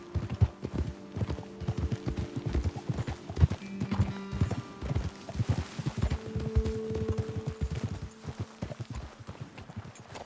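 Rhythmic clip-clop of horse hooves in Red Dead Redemption 2, steady and fairly close, with a brief whinny in the mix and no talking.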